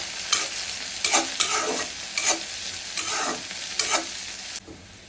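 Garlic, onion and whole cumin fry in hot oil in a wok for a nihari tempering: a steady sizzle broken by about five scraping stirs, close by, ending abruptly near the close.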